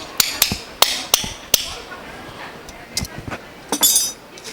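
Spoons played as a percussion instrument, held together and struck against a leg or hand, give sharp metallic clicks in an uneven rhythm of about a dozen strikes, some clustered into quick rattling bursts, fairly close and without talk.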